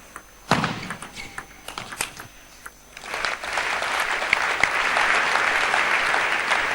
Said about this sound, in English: Sympathetic applause for Waldner